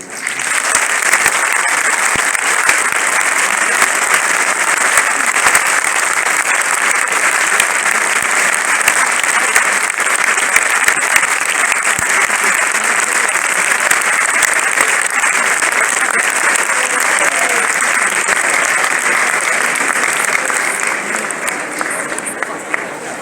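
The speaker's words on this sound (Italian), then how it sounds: "voglio chiedervi un applauso per i vostri genitori" An audience at a university graduation proclamation applauds loudly and continuously for over twenty seconds, a thick, even roar of many hands clapping that tapers slightly at the end.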